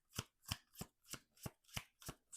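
Tarot cards being shuffled by hand, with eight crisp riffling bursts in a steady, evenly spaced rhythm, close and fairly loud with no talking.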